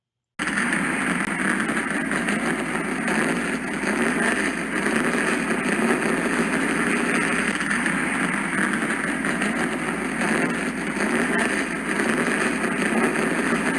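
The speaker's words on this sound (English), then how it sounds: "Now that the engines have been fired" Race car engines fired up at Daytona rumble in a loud, steady, continuous drone with no pauses, heard alone throughout.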